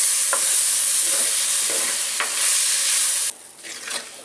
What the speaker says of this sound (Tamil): இப்போ வந்து தக்காளியோடு சேர்த்து நல்லா வதக்கிடலாம்.